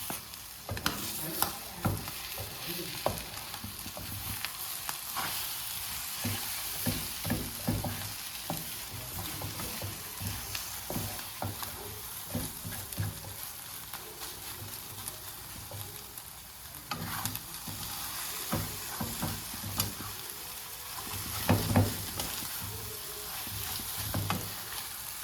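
Eggs for an omelette with onion fry steadily in a pan, a constant sizzle with light stirring and utensil scrapes throughout, no talking.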